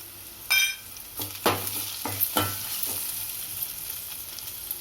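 Green chillies frying in a pan for a mixed vegetable potato curry give a soft steady sizzle, with a few brief stirring scrapes and clatters rising above it.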